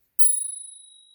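A single strike of a Spurcycle raw bicycle bell gives a loud, clean, high ding that rings on with a steady wavering shimmer and slowly fades.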